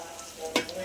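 Tiger prawns frying and being stirred in a pan with rice, mint and spices, a soft steady sizzle with one brief louder scrape of stirring near the end.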